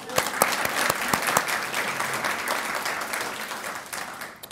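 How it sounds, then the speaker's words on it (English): An audience at the 2023 Lacky awards ceremony breaks into loud, dense applause, with sharp individual claps standing out early before the clapping evens out and starts to fade near the end. "So please join me in a round of applause for them one more time."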